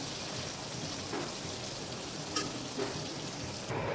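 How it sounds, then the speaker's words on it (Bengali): Hilsa shutki fritters with young pumpkin leaves fry gently over low heat, giving a soft, steady oil sizzle with faint crackles and a couple of small pops. "আগুনটা কমিয়ে দিয়ে আস্তে আস্তে করে বেঁচে নেব বড়াগুলো।"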